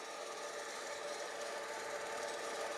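A Swardman Electra 2.0 electric reel mower cutting a lawn, giving a steady, faint, even whirring hum with no breaks and no talk.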